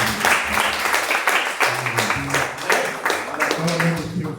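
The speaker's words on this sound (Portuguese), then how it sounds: "Jesus merece as nossas palmas" A church congregation at a missions service claps for Jesus with quick, steady clapping that carries on underneath voices speaking.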